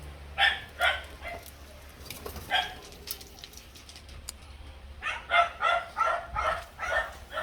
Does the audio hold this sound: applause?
no